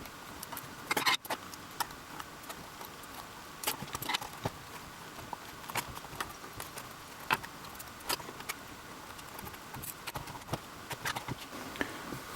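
Small, sparse clicks and light metallic ticks come from screws being worked loose on the hood of a KYAMARC KY-1816A RC car. The sounds are quiet and close, scattered irregularly, with no talking.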